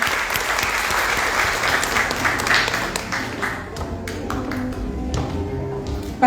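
An audience at a women's day forum on human rights applauds for a speaker, with steady sustained clapping that thins to scattered individual claps near the end.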